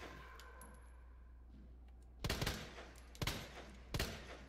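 Three sharp gunshots ring out from Resident Evil 2 gameplay, spaced about a second apart after a quiet stretch with a low steady hum underneath.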